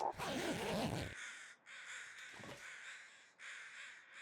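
Crows cawing in the video game The Long Dark, a dense burst of harsh caws up close at first, then repeated calls in steady clusters, fairly loud and with no talk over them.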